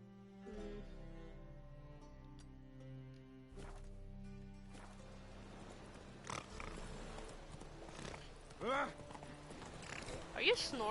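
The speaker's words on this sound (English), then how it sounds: "Come on, get on the horse" Horse hooves clip-clopping in the video game The Witcher 3: Wild Hunt, faint irregular hoof thuds under a quiet game soundscape, with voices talking over them.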